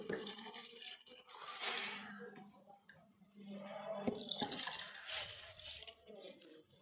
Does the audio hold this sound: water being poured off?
yes